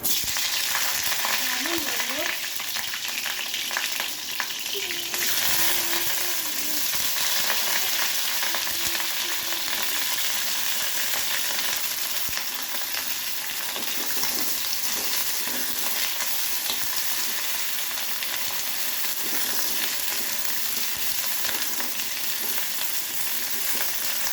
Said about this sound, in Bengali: আমি ফুলকপিটা দিচ্ছি তেল গরম হয়ে গেছে